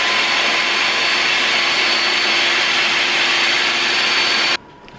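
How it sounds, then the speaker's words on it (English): A blender runs steadily and loudly as it grinds black beans for brownie batter, a dense whirring roar that holds for several seconds and then cuts off abruptly near the end. "so we're just gonna blend up the beans until they get pretty ground up"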